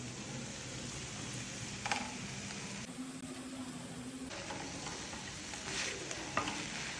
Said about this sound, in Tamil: ஃப்ரை பண்ண சிக்கனை இதில் போட்டுக்கலாம்.